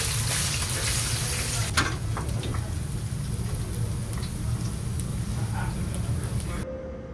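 Fish deep-frying in oil at 210 degrees, a dense steady sizzle and crackle filling the clip with a few sharper pops, close and loud, ending abruptly.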